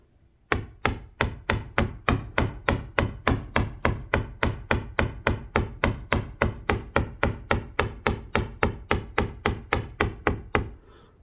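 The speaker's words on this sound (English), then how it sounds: "hammering with the ball peen is my favorite texture in wire" Steady, evenly spaced metallic taps of a ball peen hammer texturing wire for a bead frame pendant, about three per second, close and sharp, continuing alone for around ten seconds.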